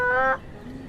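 A voice imitates a chicken with a sore throat, a brief strained, buzzy squawk lasting about a third of a second, then trailing off into quiet.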